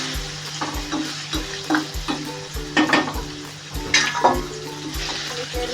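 Vegetables sizzle in a hot pan for a paneer curry, a steady close crackle with rhythmic stirring and scraping under soft background music.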